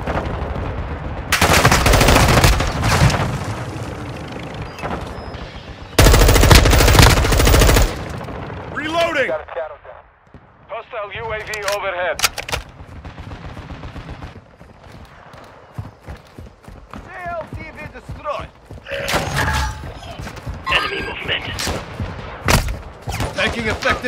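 Gunfire in the video game Call of Duty Warzone 2.0, with loud bursts of automatic fire, scattered single shots and sharp cracks separated by quieter stretches, and other battlefield sounds in between.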